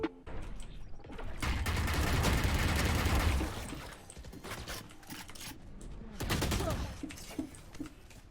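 Rapid bursts of Valorant gunfire crackle in a dense, loud barrage for a few seconds, then scattered shots and another burst follow, with no talking.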